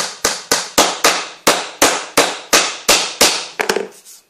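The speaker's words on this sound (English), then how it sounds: "See, I'm using my little hammer. When you're using little nails, you use little hammers." A small hammer drives little nails into a wooden box. About a dozen sharp, loud taps fall at a steady pace, and a quick flurry of lighter taps closes the run, with no talking.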